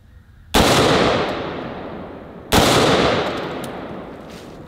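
5.56 rifle fired at a hanging chain: two loud, sharp shots about two seconds apart, each with a long decaying outdoor echo, no talking.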